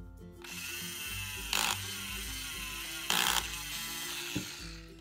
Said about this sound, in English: Now let's drill the cavity.